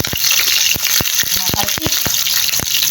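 Okra fries in a hot pan with a loud, steady sizzle, broken by sharp pops and crackles throughout.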